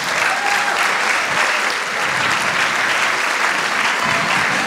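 Sustained, dense audience applause fills a hall at the Fridley High School 2019 Scholastic Awards ceremony, loud and even from start to finish with no talking over it.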